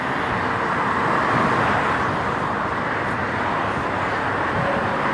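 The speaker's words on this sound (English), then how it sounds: "Look at the cars on the road" Steady, continuous traffic rumble from cars driving along a road, a dense broadband wash at constant loudness with no distinct pass-bys standing out.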